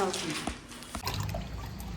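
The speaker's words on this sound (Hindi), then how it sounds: "तो मैं पौधों को पानी देती हूँ, आप मुझे देखना" Water poured onto household plants makes a steady splashing trickle, close and continuous, with no talk over it.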